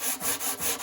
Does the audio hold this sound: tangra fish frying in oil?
no